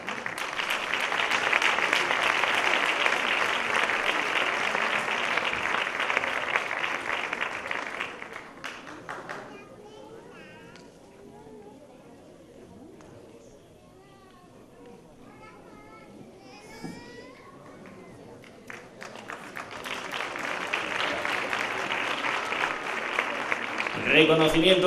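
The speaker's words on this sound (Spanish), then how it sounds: "Vamos a recibir con un fuerte aplauso a David Domínguez Feria." Audience at a sports awards gala clapping loudly, with applause swelling, easing into quieter crowd murmur and children's voices, then rising again into strong clapping near the end.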